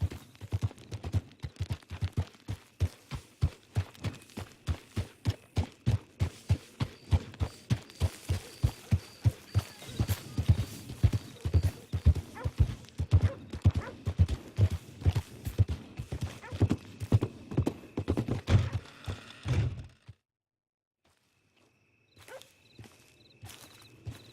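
Horse hooves clip-clop in steady, rapid rhythm for about twenty seconds in the online multiplayer mode of the video game Red Dead Redemption 2, loud and close, then stop abruptly, leaving near silence with faint game ambience.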